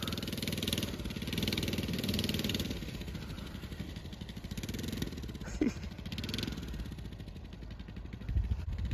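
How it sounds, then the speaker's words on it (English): A child's mini bike engine runs outdoors at a ranch with a steady, fairly quiet putter and a few light clattering bumps. "Son got this mini bike for his birthday."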